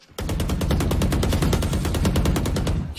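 Rapid automatic gunfire from the tactical shooter Valorant, a dense burst of evenly spaced shots running loud and continuous for nearly three seconds after a brief quiet start.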